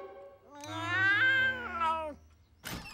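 A cartoon cat lets out one long, loud, drawn-out meow that rises and then falls, followed by a brief noisy burst; a voice shouts a short exclamation nearby.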